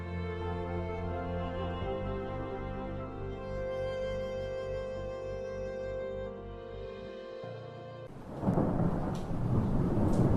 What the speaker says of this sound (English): Dry lightning in thunderstorms can also be a problem.